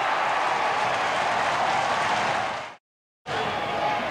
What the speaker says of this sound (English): Crowd comes to life at the SCG as the Swans hit the front for the first time.